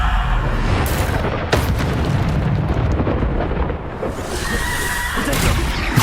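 A Bombarda explosion spell in Hogwarts Legacy booms amid a dense, roaring wash of game combat noise, with sharp blasts near 1.5 and 5.8 seconds standing out from the steady rumble.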